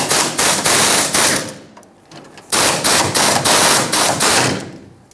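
A pneumatic impact tool rattles in loud, rapid bursts while two 10mm bolts come off a fuel tank shield on a 1999-2007 Ford F-350 7.3L Powerstroke, several close hammering runs separated by a short pause.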